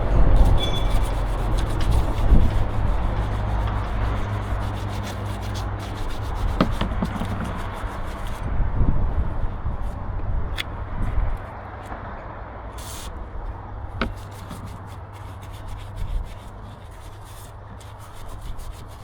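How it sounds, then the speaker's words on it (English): Scrubbing and rubbing to clear dried old glue from a vintage winch, a steady close abrasive scraping that runs on continuously with occasional sharper scuffs and knocks, no talking. "Clean off the dried up old glue."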